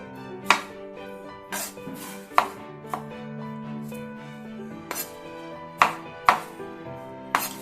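A knife roughly chops fruit on a board, landing about eight sharp, close thuds at uneven intervals with quiet gaps between, while a low background hum runs through.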